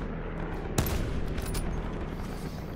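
Gunfire in a Call of Duty Blackout battle royale match, one sharp nearby shot followed by a short burst of fainter, more distant shots under a steady background rumble, no talking.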